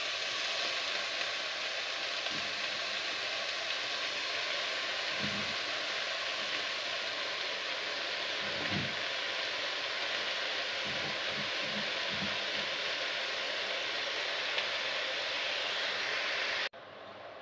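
Spinach and onion sautéing in a pan for keerai masiyal, a steady broadband sizzle and hiss running throughout with a few soft low thumps of stirring, fairly even in level and cut off near the end.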